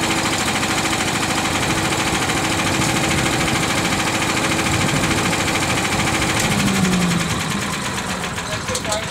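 A small engine on a repowered lawn vacuum idles steadily at close range, a constant rattling drone that eases slightly near the end; a voice is faintly present.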